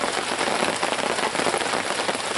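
Steady heavy rain patters on camp gear outdoors during a river hunting trip, a dense, continuous hiss of drops with no voices.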